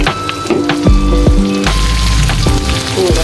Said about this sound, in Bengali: এখন ভালোভাবে ভেজে নেব।